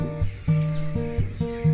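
Parrots calling outdoors at dawn in hilly, mountainous country, heard as a few faint high chirps and squawks over a steady low droning hum.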